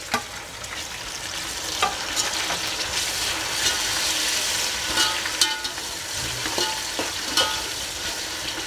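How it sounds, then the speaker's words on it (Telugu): Chopped tomato dropped into hot oil with frying green chilli and onion for a Muslim-style chicken biryani, a steady loud sizzle with scattered stirring clicks throughout, no voices. "ఇప్పుడు దీనిలో టమాటా వేసుకుందాం."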